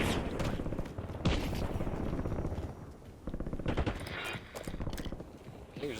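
Gunfire in Call of Duty: Warzone, rapid bursts of shots crackling in clusters across the clip over a busy game mix, with faint background voices.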